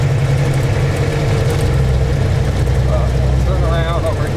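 A ranch vehicle's engine runs loud and close, a steady low rumble that holds throughout as it pulls away, with a faint whine rising near the end.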